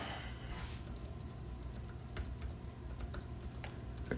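Steady keyboard typing for a Daylight DC-1 tablet, recorded outdoors, with quick irregular key clicks running continuously at moderate level over a low background rumble, no voices.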